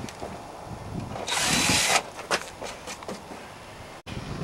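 A drill fitted with a 3/16-inch (4.8 mm) bit bores through a center-punched hole in one brief, loud, whining burst of under a second, followed by quieter handling clicks and light taps.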